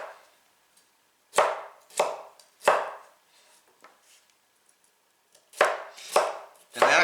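A knife slices vegetables for piperade into thin julienne strips on a cutting board, crisp close chopping strokes arriving in two clusters of three or four, separated by a quiet pause with faint softer taps.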